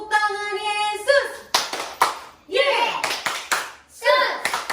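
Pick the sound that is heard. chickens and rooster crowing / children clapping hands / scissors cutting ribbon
children clapping hands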